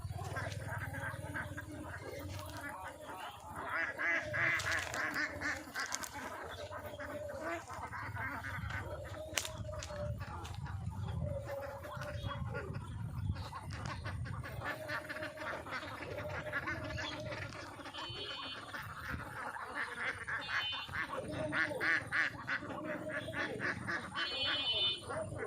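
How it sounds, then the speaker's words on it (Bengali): Ducks at a duck farm in a wetland area quack in a steady, dense chorus of repeated calls under a low background rumble, with someone talking faintly at times. "হাঁসের খামার আপনারা দেখতে পাচ্ছেন"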